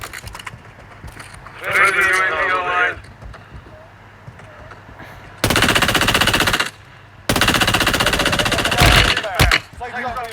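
Automatic weapon fire in the mobile shooter game Warzone Mobile: two long, loud sustained bursts of rapid gunfire, the first preceded by quieter in-game sounds and a brief earlier sound burst.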